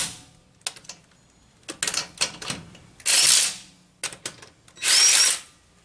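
A wrench turns the lug nuts on a GM truck wheel, giving short rattling, ratchet-like bursts with a few longer whirring runs between small clicks, close by and with no talk.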